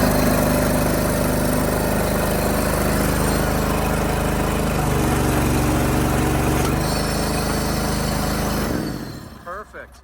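A pressure washer trailer's small engine runs steadily with a newly fitted carburetor, a loud continuous hum that cuts out near the end, leaving brief quieter sounds.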